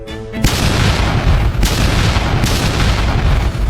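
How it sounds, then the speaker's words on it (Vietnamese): A helicopter explodes in an Ultraman cartoon, a sudden loud boom after a brief moment of quieter sound, followed by a sustained roaring rumble with further blasts. "trực thăng sắp nổ tung rồi."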